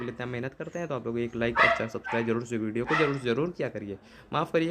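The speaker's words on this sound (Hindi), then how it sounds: "कुत्ते की भौंकने की आवाज़ आ रही है, घर में कुत्ता है" A dog barks inside a house, its barks mixed beneath a man's steady, close-up talking that continues through the whole stretch.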